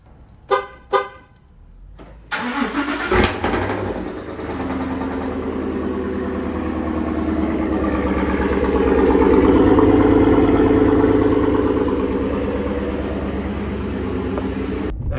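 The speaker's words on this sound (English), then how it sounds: "a little bit of a cold start in the garage" Two short horn chirps, then a Ford truck engine cold-starts in a garage, cranking and bursting to life with an exhaust pop, settling into a loud, rumbling idle close by.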